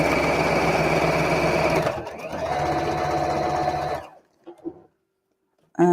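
A sewing machine stitches a lining seam, running fast and steady up close, briefly easing off and picking up again, then stopping, followed by a few faint handling clicks.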